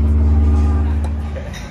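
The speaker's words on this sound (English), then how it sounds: "we are honking the horns" A deep, steady cruise ship horn blast drones loudly and low through the whole stretch, with strong wind rumble underneath.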